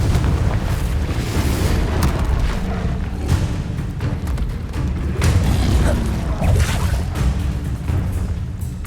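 Confringo fire-blast spells in Hogwarts Legacy, a run of loud booming bursts and crashing impacts over a rumbling low roar, close and dense.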